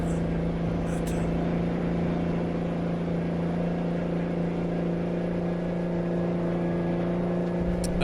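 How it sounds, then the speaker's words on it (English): A two-stroke diesel truck engine idles and holds a steady, loud mechanical drone up close, with a strong low hum and little change throughout. "Is this a 2-stroke diesel? Yes, it is."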